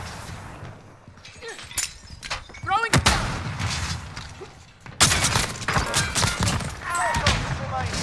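Precision airstrike explosions in a battle royale video game, a series of loud booms and crackling blasts, the heaviest barrage arriving in the second half, with players' voices talking over the gunfire and impacts.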